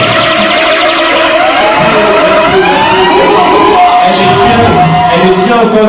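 A large audience at the African Awards ceremony in Washington applauds and cheers loudly for the event's godmother, with whoops and shouted cries over a dense wash of clapping that stays strong throughout.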